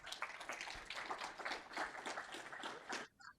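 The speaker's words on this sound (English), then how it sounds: "If we could get a round of applause for Rachel" An audience at a pitch competition bursts into dense, steady applause. The clapping is moderately distant and lasts about three seconds before cutting off abruptly.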